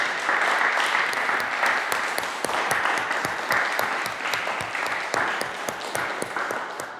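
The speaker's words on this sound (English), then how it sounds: "let's have a final round of applause for our three performers today." An audience at an organ masterclass applauding three performers, steady full clapping from a moderate crowd in a hall, loud and sustained across the whole stretch without voices.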